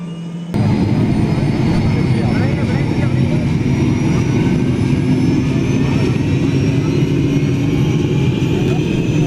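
A helicopter at Ladasar village starts up for takeoff, a loud, steady turbine roar with whining engine tones that kicks in abruptly after a short quiet moment and then holds close and strong.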